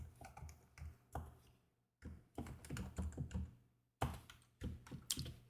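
Quiet, close typing of code on a computer keyboard, in three bursts of quick key taps separated by brief pauses.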